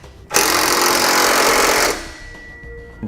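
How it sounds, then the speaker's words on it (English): An air impact wrench tightens U-bolts on a Roadmaster crossbar-style base plate on a 2018 vehicle, giving one loud, steady rattling burst of under two seconds, close up, then dropping to a low hum. "When you tighten down your U-bolts, you want to make sure you tighten them down evenly."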